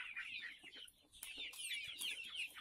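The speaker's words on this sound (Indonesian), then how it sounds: "lagi kasih makan ayam dengan kangkung" Free-range village chickens cluck and chatter busily and close by as they are fed water spinach, a dense, continuous stream of calls with a few sharper squawks mixed in.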